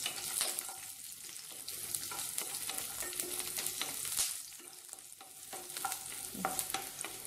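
Fifteen garlic cloves sizzle in hot oil for a chutney while being stirred, giving a steady close hiss broken by soft scraping strokes, with no one talking.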